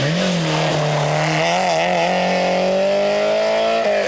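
A ZX rally car races at the 1996 Omloop van Vlaanderen rally, its engine roaring loud and close, holding high revs and climbing steadily in pitch with a brief dip near the end.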